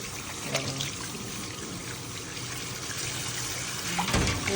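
Tap water runs steadily while pork is washed in a sink, a continuous close pour with small splashes and a louder burst of water near the end.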